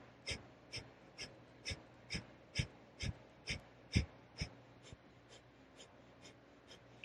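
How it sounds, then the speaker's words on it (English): Breath of fire, a rapid Kundalini yoga breathing practice, heard as a steady series of sharp, evenly spaced nasal exhalations, about two per second. The breaths are fairly faint and close, with no talking. "Begin breath of fire."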